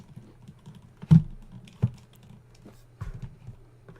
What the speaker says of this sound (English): The weird thing about my keyboard is it isn't supposed to be loud